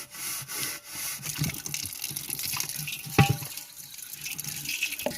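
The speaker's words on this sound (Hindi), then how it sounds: "काला जो साबुन होता है उसके साथ ये धो रही हैं" A blackened clay pot is scrubbed by hand with black soap and water outdoors in a village, with running water, wet rubbing and scraping strokes, a sharp knock midway, fairly faint and without talk.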